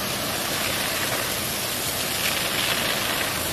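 A high-pressure car washer sprays water at the ground with enough force to dig a hole, giving a loud, continuous hissing roar that holds steady throughout.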